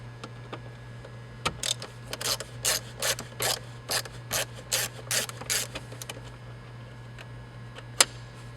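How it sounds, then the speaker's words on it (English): Screws being backed out of the center console trim of a 2011-2015 Hyundai Elantra, heard as a run of about a dozen quick, close ratcheting clicks in steady rhythm, with a sharp tick near the end over a low steady hum. "Now we're taking out these two screws right here."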